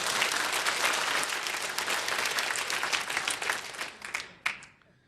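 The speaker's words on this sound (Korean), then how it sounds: "박수 박수 박수 박수." A church congregation applauds during a sermon: loud, dense clapping from many hands that holds steady, then thins and fades, with one last sharp clap near the end.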